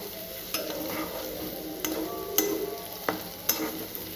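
Potato pieces fry in a pan with a soft steady sizzle while a utensil stirs, scraping and clicking against the pan at irregular intervals; fairly quiet and close, with no voices.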